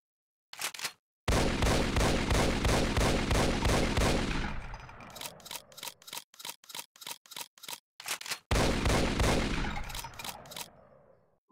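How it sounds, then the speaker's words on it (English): Automatic shotgun from the Brutal Doom 64 addon, fired in a long rapid burst of loud, evenly spaced blasts, then a slower string of separate shots and a second fast burst, all without talk. "And the last weapon is automatic shotgun,"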